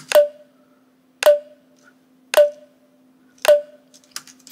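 Percussion made from a plastic cup, combined into a snare clap: four crisp, evenly spaced hits about a second apart, each with a short ringing tail, close and dry, with faint rattles after the last.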